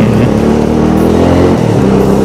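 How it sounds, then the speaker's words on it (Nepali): A scooter engine labours uphill carrying two riders on a rough morning trail, a steady loud drone with strained, rising revs throughout. "स्कुटी तान्न गाह्रो पर्छ नि त यार यस्तो बेलामा।"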